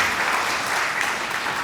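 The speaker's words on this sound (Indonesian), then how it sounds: "Tepuk tangan buat para mahasiswa." An audience at a public university lecture gives the students a round of applause, a steady wash of many hands clapping with no break.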